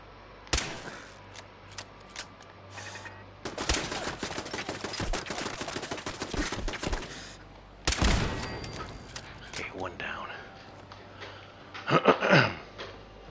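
Gunfire in Fallout 4 as the player takes on a cluster of hostile turrets, with dense bursts of shots and heavy impacts coming in waves, loud and close, broken by brief quieter gaps.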